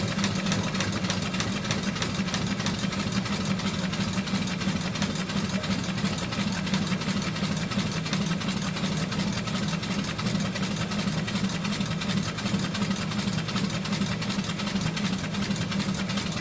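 A small Lykamobile steam engine running smoothly in reverse through a direct chain drive, producing a steady, even, continuous chuffing and mechanical rattle at close range, unbroken throughout with no talk.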